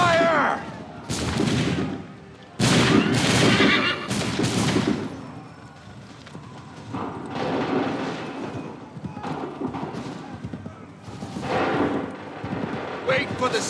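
A musket volley goes off on command in a colonial-era battle in Assassin's Creed III, loud overlapping cracks rolling out in a few heavy bursts, with shouted voices and horse hooves mixed into the clamor.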